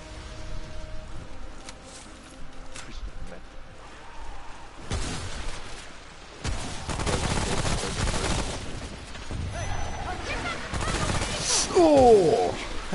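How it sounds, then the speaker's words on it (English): Submachine gun fire in the game Remnant: From the Ashes, with bursts of rapid shots coming and going over several seconds, mixed with other game sounds and voices talking over them. "Submachine gun's good, isn't it?"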